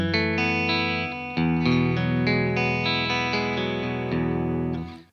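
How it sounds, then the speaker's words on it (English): Clean Telecaster electric guitar played through an amp preset with slapback, ringing out sustained chords and notes loudly and steadily for about five seconds before fading at the end. "Really nice, clean guitar sound, very present."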